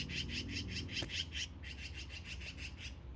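Birds squawk in a rapid run of harsh, rasping calls close by, broken by a brief pause before the chattering resumes, with no one talking over it.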